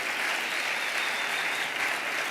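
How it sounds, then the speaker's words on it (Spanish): Dense, steady applause from a podcast audience, a continuous wash of many hands clapping at even loudness throughout, with no voices over it. "Démosle un aplauso al gran Itiel."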